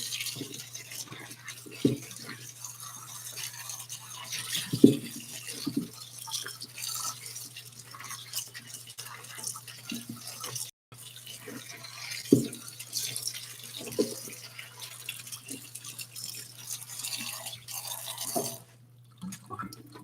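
Brussels sprouts are washed and scrubbed under a running kitchen tap, with a steady low stream, intermittent splashes and drips, and a brief pause in the flow partway through.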